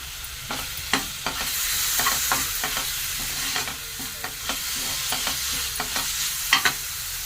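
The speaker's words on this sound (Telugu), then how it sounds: "ఇప్పుడు మనం జీలకర్ర, ధనియా, కొంచెం ఎండుమిర్చి వేయించుకున్నాం కదండి" Cumin, coriander seeds and dried red chillies fry in a pan with a constant sizzling hiss, broken by repeated sharp scrapes and taps of a stirring utensil at irregular intervals.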